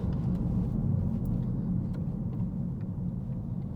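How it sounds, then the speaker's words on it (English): A Mk7.5 Golf GTI with its exhaust backbox deleted gives a steady, deep droning rumble from the road, constant and moderately loud with no voices. "first impressions are exhaust sounds absolutely spot on"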